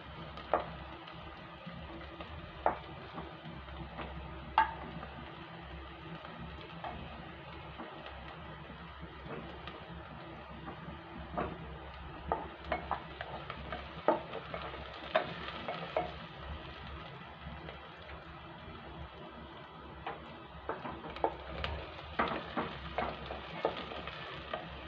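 Onions and whole spices sizzle quietly in a pan for tomato pulao, a steady soft frying hiss broken by scattered small pops and the occasional scrape of stirring.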